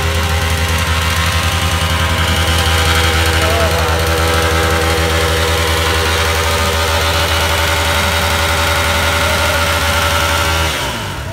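Motorcycle burnout on a Republic Day group ride, engine held at high revs in a loud, continuous roar for about eleven seconds before cutting off abruptly at the end, no talking.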